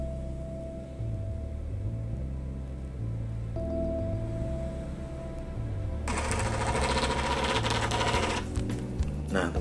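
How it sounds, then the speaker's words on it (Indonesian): An IWARE thermal printer runs a Shopee receipt, a low mechanical whir that pulses unevenly, then turns into a harsher, buzzier chatter partway through before stopping near the end. "Kita coba cetak."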